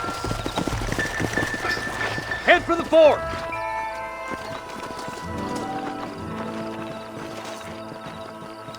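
Horses' hooves clip-clop in the Red Dead Redemption video game, a busy galloping rhythm with a brief whinny, under a man's spoken line and background music before slowing.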